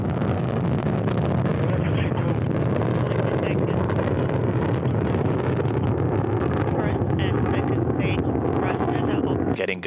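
A Soyuz rocket with four strap-on engines roars at launch, a dense continuous rumble heard through a broadcast feed, loud and unbroken for the whole stretch.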